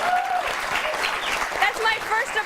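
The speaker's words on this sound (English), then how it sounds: "That's my first applause." A studio audience on a live news show breaks into applause, a brief, moderately loud burst of clapping with a voice talking over it.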